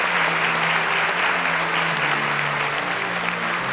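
Dense, sustained applause fills the room from a television science-competition studio audience, a steady unbroken wash of clapping at constant loudness with no voices on top.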